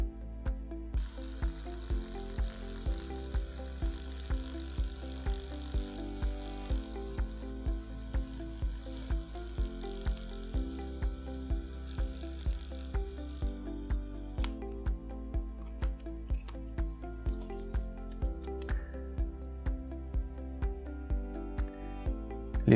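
Broxo electric toothbrush (Broxodent) switched on and buzzing steadily with a fast, regular mechanical ratcheting pulse, close and moderately loud, continuing evenly throughout with no talking.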